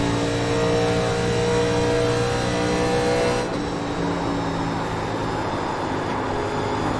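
Engine of a 1987 NASCAR Legends race car in iRacing at Atlanta, a steady loud drone with layered harmonic whine that shifts pitch midway as the throttle changes, continuous with no talking.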